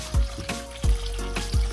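Cold tap water splashes and trickles over cooked food to chill it, close by, with a few soft thumps and a steady liquid patter.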